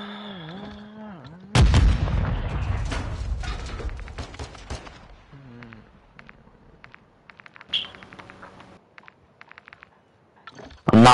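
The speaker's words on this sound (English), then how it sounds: "why are you cluster striking?" A barrage of video game cluster strike explosions bursts in loudly, then thins into scattered cracks and blasts with quieter stretches between them, before one more sharp burst at the end.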